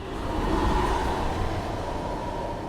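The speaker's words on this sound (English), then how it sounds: "That's just the wind" Wind swooshes through dark woods at night as a steady, fairly loud rushing hiss that holds level throughout with no voices over it.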